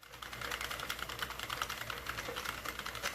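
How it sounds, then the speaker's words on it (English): A 48-needle Sentro knitting machine runs steadily through cotton acrylic blend yarn, giving an even rapid clicking and whirring rhythm throughout, moderately faint and with no voices. "So I am going to go ahead and load my 48 needle Sentro knitting."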